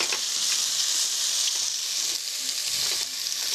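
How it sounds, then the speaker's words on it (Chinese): Onion and tomato stir-fry in a little oil in a hot pan after mushrooms, giving a loud, steady sizzle with no break, with a few faint scrapes of stirring mixed in. "洋葱跟番茄让它爆炒炒香"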